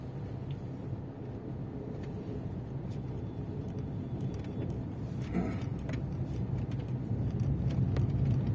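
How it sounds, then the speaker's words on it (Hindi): Steady road traffic hum during a car drive across a bridge toward a flyover in Ludhiana, continuous engine and tyre rumble that grows slightly louder toward the end, with no talk. "थोड़ा ट्रैफिक बढ़ चुका है"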